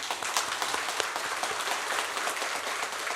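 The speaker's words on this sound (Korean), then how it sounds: "하나님께 감사의 박수입니다" A church congregation claps in thanks during a Korean sermon, loud, dense applause sustained evenly from start to finish with no talk over it.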